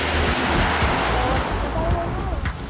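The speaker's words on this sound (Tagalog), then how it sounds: "Laki ng alon, ano?" Big ocean waves surge at a fishport in Dingalan, Aurora, a steady loud roar of surf with low rumble close by, and faint voices underneath.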